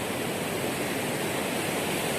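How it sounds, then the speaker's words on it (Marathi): Rushing water of a flooded river, a steady dense broadband roar that holds even and loud throughout, with no voices. "येथून आपण या नदीचं पाणी पाहणार आहोत"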